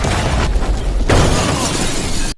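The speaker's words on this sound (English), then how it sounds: "the explosion destroyed all the enemies chasing him" A loud, crackling blast with a roaring burst of noise that swells midway and then cuts off abruptly.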